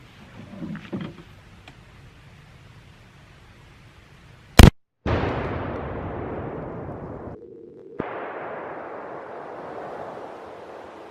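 A Mossberg ATR .308 rifle fires at a one-pound Hypershock target on a bowling pin, giving one loud, sharp blast followed by a long, rumbling roar and echoing boom that slowly fades over several seconds.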